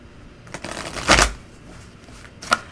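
A deck of playing cards is shuffled in quick riffling bursts, one prominent burst then a shorter one, close and crisp with no talking.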